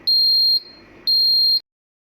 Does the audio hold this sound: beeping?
yes